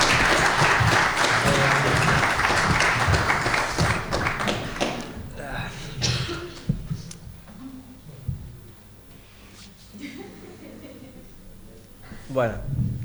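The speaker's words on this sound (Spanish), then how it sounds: "un gran aplauso para la estrella Renato" An audience applauds a guest speaker at an animation and video game talk, loud dense clapping for a few seconds that thins out and fades, with a few scattered claps and a final brief burst near the end.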